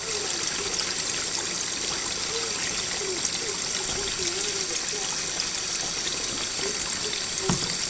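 River water rushes steadily just behind a dam, a continuous, even wash of flowing water with no break across the whole stretch.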